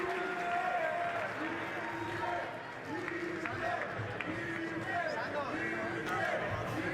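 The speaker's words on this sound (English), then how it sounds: "please, a nice round of applause for Joe Hughes." A large boxing crowd applauds and cheers steadily throughout, a dense wash of clapping with a ring announcer's voice talking over it.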